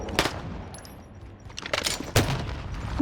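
Gunshots in a shooter video game, a few sharp bursts over about three seconds with a loud report near the end, set against a steady background hum and no talking.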